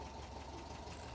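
A 1973 VW Porsche 914 with its mid-mounted air-cooled flat-four idles steadily at low volume, an even rumbling drone with a light knocking texture and no talk.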